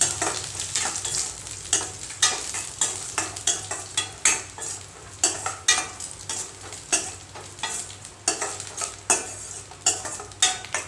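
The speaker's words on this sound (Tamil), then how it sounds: "வெள்ளை திராட்சை எல்லாமே சேர்த்து நம்ம வறுத்துக்கலாம் நெய்யில் நல்லா ப்ரௌனாக ரோஸ்ட் பண்ணி எடுத்துக்கலாங்க" White raisins and nuts roast in ghee in a hot kadai, stirred briskly so a spoon scrapes in a quick, regular rhythm over a gentle sizzle, close and fairly loud, with no voices.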